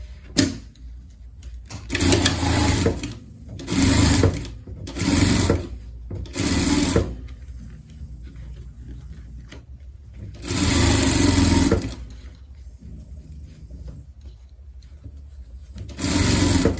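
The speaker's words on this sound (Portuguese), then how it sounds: "E vamos passar uma costura por tudo." Domestic sewing machine running a stitch along layered fabric, cotton tricoline over batting, in repeated bursts of about one to two seconds separated by short pauses, close and fairly loud, with no one talking.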